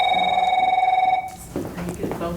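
A telephone rings with a rapid trilling bell for just over a second, then stops as a person starts talking over faint room noise.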